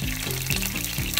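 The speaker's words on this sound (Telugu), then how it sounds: "దీనికి కావాల్సిన పోపు వేసేసుకుందాం. 2 స్పూన్స్ ఆయిల్, ఒక 1/2 స్పూన్ ఆవాలు, 2 ఎండుమిర్చి" Mustard seeds and two dried red chillies tempering in about two spoons of hot oil, a steady close sizzle with crackling over a low harmonic hum, loud and without speech.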